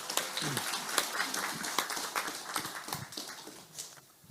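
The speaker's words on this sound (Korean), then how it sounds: "유영옥 교수님께 감사의 큰 박수 보내주시기 바랍니다" Applause at a Gyeonggi provincial assembly forum on honoring war veterans, a moderate, fairly sparse round of clapping from the audience that thins out toward the end.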